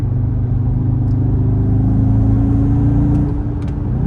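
An Audi RSQ3 performance SUV drops a gear and surges back onto the power, a steady loud engine rumble with layered harmonic drone rising through acceleration, close and continuous without voices.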